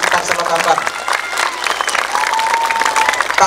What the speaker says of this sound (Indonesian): tepuk tangan semua masyarakat yang ada di sekitar Selokambang